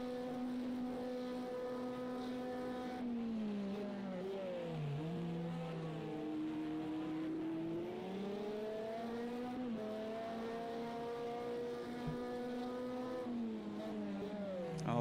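GT3 and LMP1 race cars at Daytona in Project Cars 2, engines droning steadily with rising and falling pitch as they accelerate and shift, a continuous loud engine note throughout with no pauses.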